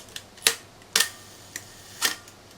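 A camera shutter set to a 1-second exposure fires repeatedly. It gives crisp, close mechanical clicks in two quick pairs, each pair about half a second apart, with faint ticks around them in a quiet room.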